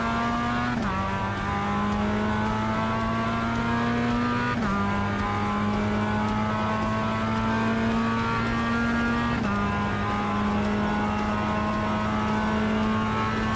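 A Mazda Miata race car engine in the iRacing sim holds a loud, continuous drone, dropping in pitch at each of three gear shifts, with no talk.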